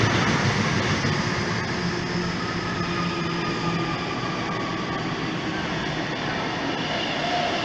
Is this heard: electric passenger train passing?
yes